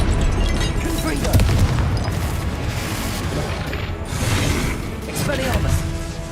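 Spell blasts burst repeatedly through a loud, busy stretch of Hogwarts Legacy combat, with booming impacts and clattering mechanical crackle layered over continuous game sound and a voice.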